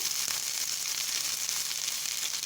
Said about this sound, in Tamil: இப்போ நல்லா வதக்கி விட்டுக்கலாங்க